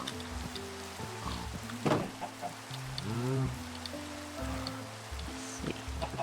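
Steady Minecraft rain patters continuously in the background, with occasional louder splashes and faint in-game animal sounds mixed in.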